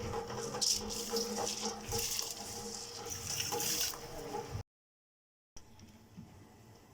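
Soaked basmati rice, one kilogram, tipped into a pot of boiling water while cooking chicken biryani: a steady rush of splashing and bubbling water for several seconds, then a brief silence and quieter bubbling.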